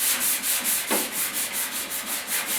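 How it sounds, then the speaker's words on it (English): Rhythmic back-and-forth sanding of two-part body putty on a 1956 Mercury front fender with 320-grit paper, steady close scratchy strokes repeating about every quarter second with no talk. "when you sand it, now you have a chance of making your body work a little bit uneven"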